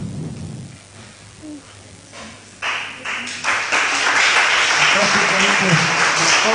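Loud applause from an assembled audience swells in after a few seconds of quieter sound and keeps going as a dense, steady clatter of many hands close by.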